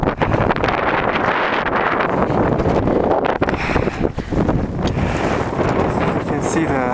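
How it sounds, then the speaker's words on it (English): Strong wind blasts across a high mountain slope on Cho Oyu during a summit push, a loud, continuous roar buffeting the microphone with rough gusts and no letup. "Cho Oyu there, the wind blasting to the summit."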